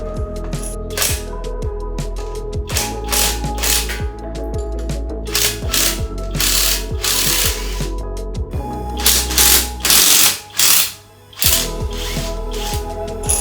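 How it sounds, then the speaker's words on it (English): Hand ratchet loosening the strut mounting bolts on a Honda Civic Type R in a garage, a rapid series of clicking pawl ratchets in repeated close, loud strokes with metallic clinks, and no voices. "we're going to be removing the mounting bolts for the strut."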